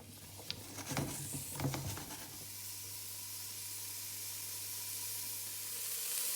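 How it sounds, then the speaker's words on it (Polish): Onion frying lightly in a pan for mung bean soup, a faint steady sizzle with a few stirring scrapes in the first two seconds, then an even soft hiss alone. "Cebulkę mam już ładnie podsmażoną."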